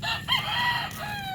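A rooster crows at dawn somewhere near Balanga City, Bataan, its long drawn-out call rising and sustained over a low steady background hum of boat motors.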